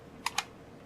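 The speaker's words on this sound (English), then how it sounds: "And then I just have to type the last two numbers" Two quick keystrokes on a computer keyboard, entering digits at a login prompt, sharp, close clicks standing alone against a quiet background hum.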